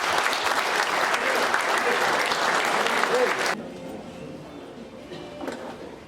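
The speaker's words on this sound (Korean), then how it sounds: "여러분 다시 한번 큰 박수 부탁드리겠습니다" Loud applause from an audience at a political forum in a hall at the National Assembly Memorial Hall fills the room, then drops sharply to a quieter crowd murmur with a few scattered claps.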